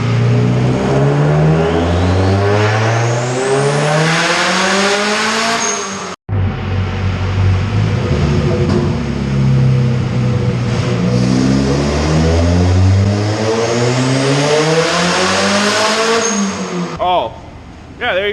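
Turbocharged Honda CR-V revving on a dyno in two long, loud pulls, each climbing steadily in pitch to a high peak before a brief cut, with a faint whistle on top and people talking in the background.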